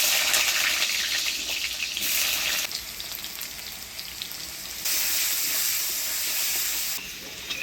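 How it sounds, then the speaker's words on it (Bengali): Potatoes and jackfruit fry with turmeric and salt in hot oil, a loud, steady close sizzle that swells and eases as the pieces are stirred, with no talk. "প্রথমে হলুদ লবণ দিয়ে আলু আর কাঁঠালটা ভাজি নিব।"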